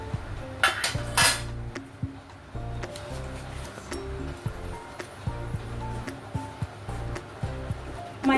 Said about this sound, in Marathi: आता ह्यावर एक चाळणी ठेवूया आणि 2 वाट्या मैदा घेतलेला आहे